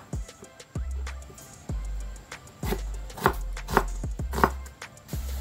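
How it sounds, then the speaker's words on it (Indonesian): A knife slicing a Bombay onion on a cutting board, with repeated crisp chopping taps in an uneven rhythm, close and fairly loud, with no talking. "And this onion, slice it."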